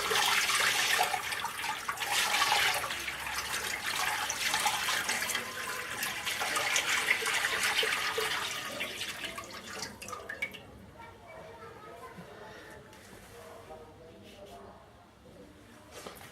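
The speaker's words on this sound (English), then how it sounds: "let me start adding the water." Water poured from a bucket into an aquarium pours and splashes steadily for several seconds, then thins to lighter trickling and drips as the flow tapers off.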